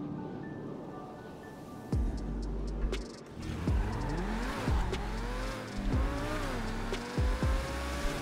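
A car in the FiveM mod of GTA V drives and revs loudly, engine pitch climbing and dropping through several gear shifts with brief tire squeals, close and alone with no talk.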